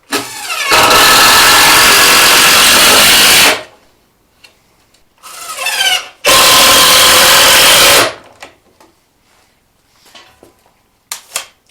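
A power drill drives a single screw into temporary wooden stairs, two loud close bursts of whirring motor with a short stop between, then quiet handling sounds.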